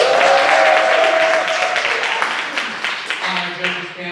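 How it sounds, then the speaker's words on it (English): Theater audience applause for competition contestants, a dense, loud wash of clapping that slowly thins out, with a voice starting to speak over the tail end. "Give them a round of applause."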